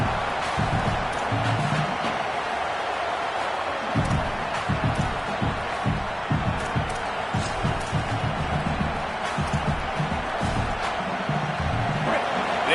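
Dense, continuous roar of a large football stadium crowd, loud and sustained with surging swells throughout.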